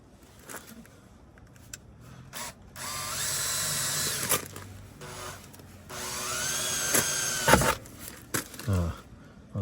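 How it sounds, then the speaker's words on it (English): A small drill bores a hole into the rusty rear jacking point of a Range Rover TDV8, with two whining motor bursts that rise in pitch as the bit spins up, separated by brief knocks and handling noise. "I'll start with a small drill."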